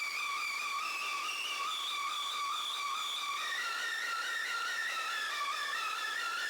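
Wild-sounding synth melody over a held pedal point with a counterpoint line, built in Ableton for a witch house track; bright wavering tones play steadily and alone at moderate level throughout.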